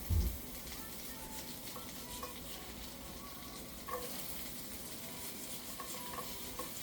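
Chopped onions sizzle and crackle in a frying pan, a steady soft frying hiss with occasional stirring clinks and scrapes, fairly quiet and with no talking.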